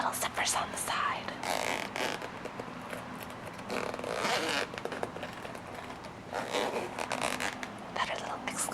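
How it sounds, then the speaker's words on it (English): Several short zipper pulls on a video game case close up, quick rasping bursts separated by pauses, with soft whispering in between. "Little zippers on the side."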